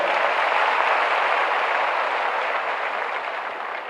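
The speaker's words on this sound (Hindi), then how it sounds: "तालियां बजती रहनी चाहिए, तालियां बजाएं," An audience claps continuously at a police appointment ceremony, forming a dense, steady wash of applause that fades slightly toward the end, with no talk.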